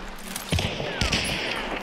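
Gunfire in the video game Hunt: Showdown, a pair of loud, sharp shots about half a second apart over a steady background ambience.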